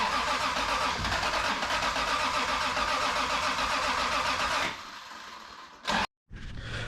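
An MK3 Toyota Supra's 7MGTE engine cranks steadily and loudly on poured fuel, a continuous rhythmic churn that nearly catches before cutting off, then a brief restart of cranking.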